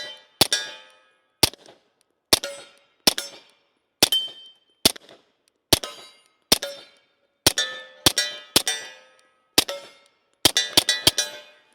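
Suppressed Beretta 92X pistol with a threaded barrel firing 147 grain Remington subsonic rounds: about fifteen sharp, cracking shots with metallic clinks, spaced irregularly and then coming in a quick cluster at the end.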